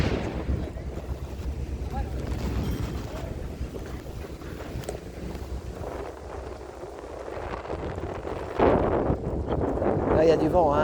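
Wind buffets a microphone while cycling along the Champs-Élysées, a steady rough rumble that grows stronger and gustier toward the end, with faint street noise underneath.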